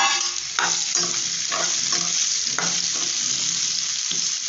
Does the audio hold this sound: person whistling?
no